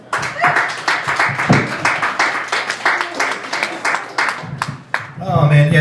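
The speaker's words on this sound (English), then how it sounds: "Big round of applause for Mr." Audience applause at an election night open mic comedy show, a burst of close, rhythmic clapping from a small crowd that fades as a comedian starts talking.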